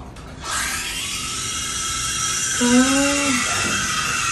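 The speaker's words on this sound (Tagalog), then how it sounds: "Ganito yung tunog ng howling sound po." An espresso machine steam wand frothing milk gives a steady hiss, then a high, wavering howl rises out of it for about a second before fading back.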